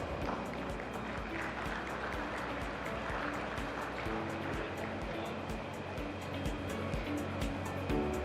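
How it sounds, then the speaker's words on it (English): An audience claps in a steady wash of applause at the 30th CII Partnership Summit in Visakhapatnam, following a report launch. It holds evenly at a moderate distance throughout, with no clear talk. "Let's have a big round of applause."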